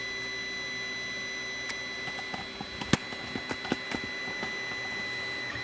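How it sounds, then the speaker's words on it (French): A 3D printer that is already at temperature starts printing a calibration cube: soft steady mechanical hum with sparse small clicks and ticks from its motors, faint and close, with no voices. "Et là l'imprimante, comme elle est déjà à température, elle va partir de suite."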